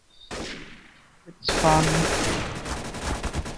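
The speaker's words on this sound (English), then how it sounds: "I just shoot them from the tower." Rapid automatic gunfire in Gmod's Trouble in Terrorist Town game, loud and close in a continuous burst, preceded by a short spoken phrase and an earlier quieter shot.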